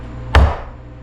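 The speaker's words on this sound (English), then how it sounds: "And then we're going to clamp our clamp." A single sharp knock as a clamp snaps shut on a board held in a Kreg pocket hole jig, then a short decay into a quiet room with no voices.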